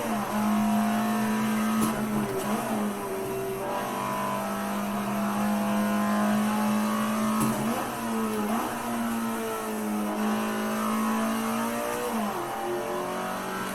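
Alfa Romeo 33 Stradale engine in the video game Assetto Corsa on the Nordschleife, a continuous loud engine drone from inside the car, pitch rising and dipping with gear changes and throttle through corners.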